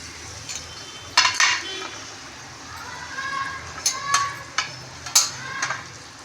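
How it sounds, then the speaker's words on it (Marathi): Soaked poha stirred in a kadhai; sharp metallic spatula scrapes and clinks against the pan come in irregular bursts over a faint sizzle, close and fairly loud. "आता आपण ते कढईमध्ये टाकून घेऊया।"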